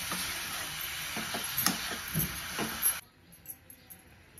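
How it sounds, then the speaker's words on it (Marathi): Grated ridge gourd being stirred in a pan, soft scraping and light sizzling strokes for about three seconds, close and moderately quiet, then the sound drops off to near silence. "ते छान असं भाजी आपल्याला मिक्स करून घ्यायचं"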